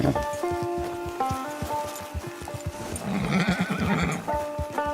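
In the Red Dead Online video game, a horse whinnies in long tonal neighs while hooves clip-clop in a steady rhythm beneath, with soft patter like rain in the background.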